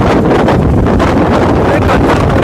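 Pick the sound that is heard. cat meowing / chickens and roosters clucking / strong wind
strong wind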